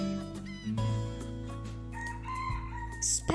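A rooster crows close by, one drawn-out cock-a-doodle-doo with a rising, wavering pitch, followed by a short sharp call at the end, against a faint background hum.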